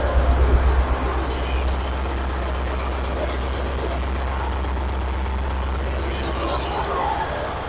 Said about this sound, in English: Pump's running.